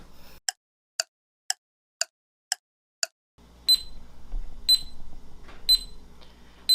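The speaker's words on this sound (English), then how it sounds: "So this thing will beep when it is ready." A meat thermometer in roasting chicken beeps six times in even, sharp pulses with silence between, then keeps chirping in a slower pattern over a low kitchen hum.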